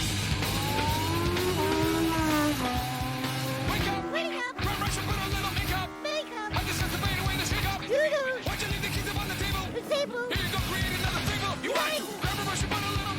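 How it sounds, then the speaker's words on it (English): A fancy rental car pulls up in an animated Sing 2 movie scene. Its engine and tire noise run loud and steady, mixed with music and voices, broken by a few short drops. "Miss Crawley pulls up in her fancy-ass rental car and finds Clay Calloway's house"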